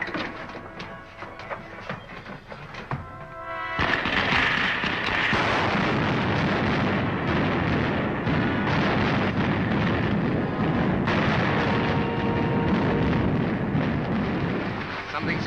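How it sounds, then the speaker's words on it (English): Spaceship starting rockets firing, a sudden massive roaring blast that swells into a sustained, dense rumbling thunder, loud and continuous after quieter mechanical hum and clanking. "Fire the starting rockets."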